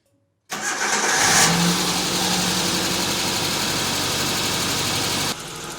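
A Suzuki Samurai engine cranks and catches, then settles into a steady, loud, even idle with lights and accessories off, running close by without voices before cutting quieter near the end.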